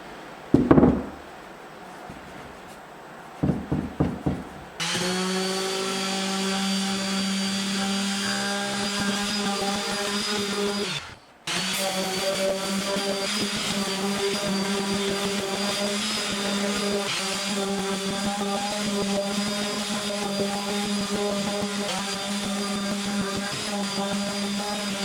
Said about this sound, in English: start sanding everything down.